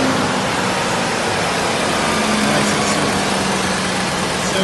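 A classic Mercedes W126 420 SEC's 4.2-litre mechanically injected, naturally aspirated V8 idles steadily close by, a constant dense rumble with no change in pace and no talking.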